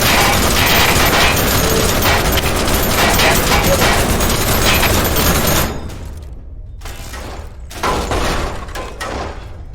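Rapid gunfire from the physics sandbox game People Playground fills the first half as a dense, loud continuous burst, then gives way to sparser, scattered shots and bangs with a few gaps.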